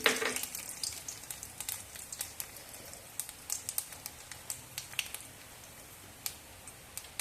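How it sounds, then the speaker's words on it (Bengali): Black cumin seeds and a dried red chili sizzle in hot oil, a steady close hiss dotted with sharp popping crackles throughout, with no talking. "ফোড়নের জন্য সামান্য কালো জিরে একটা শুকনো লঙ্কা দিয়ে"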